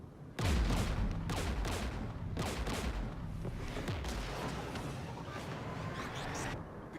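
Loud bursts of gunfire and heavy impacts from anti-aircraft cannon fire in the Mass Effect 3 video game, a cluster of sharp blasts followed by sustained rumbling fire and explosions that continue steadily with no voices.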